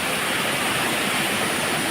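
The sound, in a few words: fast-flowing waterfall in a forest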